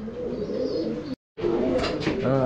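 Pigeons cooing in low, throaty repeated calls, loud and close, with a short break of silence partway through and a faint higher chirp near the end.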